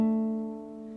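A fingerstyle acoustic guitar lets a short phrase ring out, one sustained chord decaying alone at moderate loudness.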